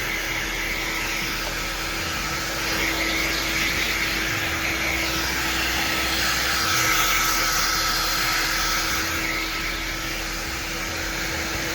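A hair dryer blow-drying hair with a vent brush roars continuously and loudly up close, a steady whooshing airflow with a constant motor hum throughout.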